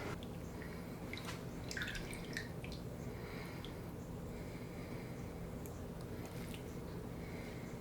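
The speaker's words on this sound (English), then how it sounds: "We're going to drain that off." Excess liquid drains off a homemade sausage meat mixture with soft dripping and wet squishing sounds, fairly quiet and steady over a low background hum, with no talking.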